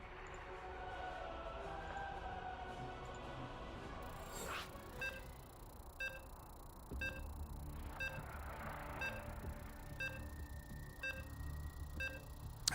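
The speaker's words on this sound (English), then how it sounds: "As you can hear the beeps, we are getting into our next game." A series of evenly spaced electronic beeps from a video game count down to the next match starting, faint and regular over a low background hiss.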